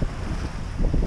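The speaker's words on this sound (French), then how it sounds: "9 nœuds de vent, vent de travers, on avance à 5 nœuds" Steady crosswind rushes across the microphone aboard a sailboat making about five knots off Cap Corse, a continuous low roar with a faint swell of water beneath it.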